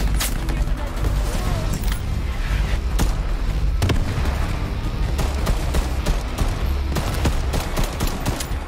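Constant gunfire in the co-op shooter Shatterline, rapid overlapping shots and sharp cracks with occasional explosive thumps, loud and close throughout, while a voice talks beneath the din.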